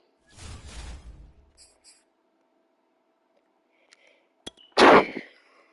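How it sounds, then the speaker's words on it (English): One sharp, loud sneeze bursts out close to the microphone near the end of a mostly quiet stretch, preceded by faint murmuring and small clicks. "Sorry for the sneeze."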